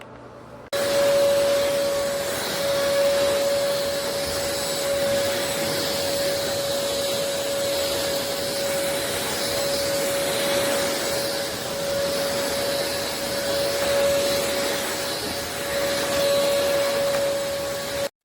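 An elezon A200 cordless vacuum cleaner with 18000Pa suction runs steadily on its own, a loud continuous motor whine with a sustained tonal hum and airy rush and no pauses.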